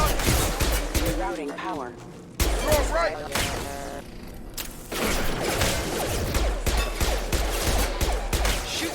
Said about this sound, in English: Shoot them before they take out your shield